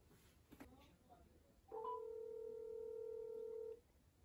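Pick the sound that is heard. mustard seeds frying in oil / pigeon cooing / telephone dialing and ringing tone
telephone dialing and ringing tone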